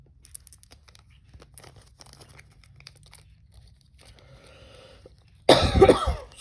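Quiet rustling gives way to a single loud, close cough near the end, harsh and brief.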